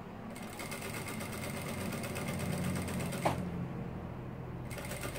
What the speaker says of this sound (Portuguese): Tô passando a costura aqui com meio pé de máquina, só pra prender